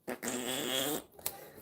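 Fart sound effect played from a phone, one long buzzy flapping blast about a second long, followed by short sputters and a brief click, fairly close.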